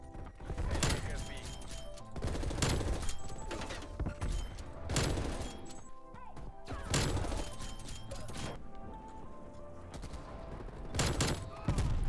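The Fara AR assault rifle fires in a first-person shooter video game. Rapid automatic bursts come close and loud in repeated clusters, separated by short lulls, with mechanical clatter between the volleys.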